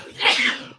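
A single sharp sneeze bursts out close by, brief and breathy.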